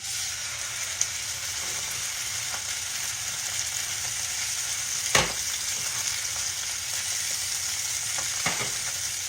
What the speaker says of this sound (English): I'm going to fry that up real good.